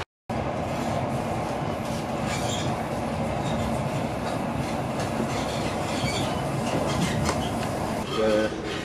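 Steady rumble of a train running on rails near Aberdeen, Scotland, continuous wheel noise with faint clatter and a brief squeal near the end.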